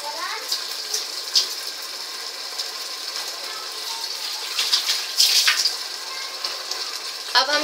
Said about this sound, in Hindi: अब हम इसमें पानी ऐड करेंगे, जिससे चावल दम हो जाएंगे।